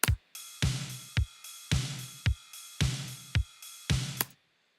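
A drum groove with punchy kicks, snare hits and bright, gritty cymbals, repeating steadily and sounding crunchy and saturated, then stopping abruptly.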